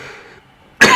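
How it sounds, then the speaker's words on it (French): A man coughs once, sharply and close, after a near-silent stretch of faint background. "j'en suis à la phase où je tousse"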